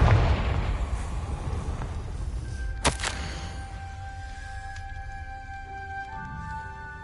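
A Confringo blasting spell bursts in Hogwarts Legacy, a sharp loud explosive crack near the middle of the scene, followed by ringing magical tones and a low ambient rumble.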